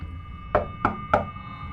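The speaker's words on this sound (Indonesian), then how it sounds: "Ketukan itu terulang lagi." Someone knocks on the front door of a house with bamboo walls: three firm, evenly spaced raps, close and clear, over a faint steady hum.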